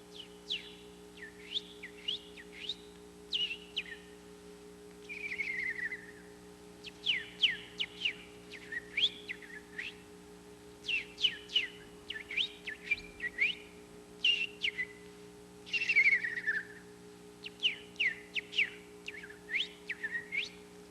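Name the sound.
person imitating mockingbird song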